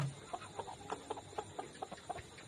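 Twenty-week-old layer pullet hens, fully vaccinated, cluck repeatedly in a steady series of short calls, close and fairly quiet, with no talk over them.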